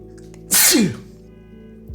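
A single loud sneeze bursts out sharply, with a brief throaty tail, over a steady low background hum.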